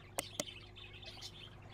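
Bird chirping in Exotica Petshop Simulator, two sharp, brief chirps in quick succession over a quiet in-game hum, then softer faint tones.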